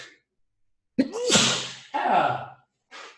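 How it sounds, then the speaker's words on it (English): A single sharp sneeze with a quick inhale before it, followed by a breathy exhale and a short trailing sound, close to the microphone. "I sneeze, and my nose is all going fuzzy"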